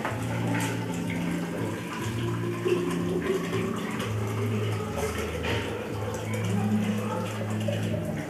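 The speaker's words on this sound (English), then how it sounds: "Now I'm going to fill the jar with water." Water poured from a tap into a tall jar with tiny holes in its walls at different heights, a steady splashing fill running throughout under a person speaking.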